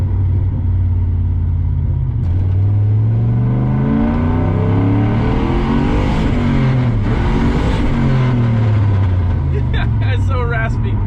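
A straight-piped turbocharged Pontiac GTO revs repeatedly, its raspy exhaust climbing and falling in loud sweeping pulls, close by, with voices talking over it.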